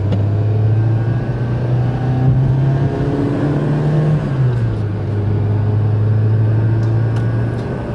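A 1986 Saab pulls hard in second gear, its steady engine drone rising in pitch, dipping briefly as the revs change, then climbing again, loud and close with road rumble beneath and no talking.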